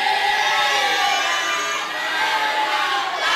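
Supporters at a public debate between regional deputy-regent candidates applaud for candidate pair number 3, a loud, dense, continuous crowd clapping and cheering that swells steadily throughout.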